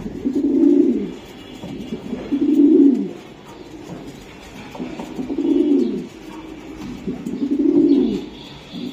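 Racing pigeons coo in a slow, repeated rhythm, four low rolling phrases spaced about two seconds apart, close and clear over a quiet background with no speech.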